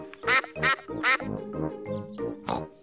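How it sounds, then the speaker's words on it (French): A series of loud, nasal cartoon duck quacks in quick irregular bursts, close up, several calls overlapping with no talking. "Regarde, il y a des canards"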